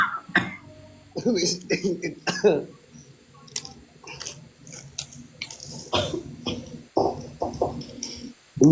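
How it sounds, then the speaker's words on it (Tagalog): Several harsh, throaty coughs come in short bursts, close by, with people talking in between. "inuubo kami rito eh"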